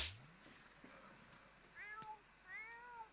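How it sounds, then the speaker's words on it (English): A cat in The Sims 4 video game meows a few times, short rising mews toward the end, quiet and alone after a brief opening sound. "What's wrong with the kitty? Kitty needs some attention."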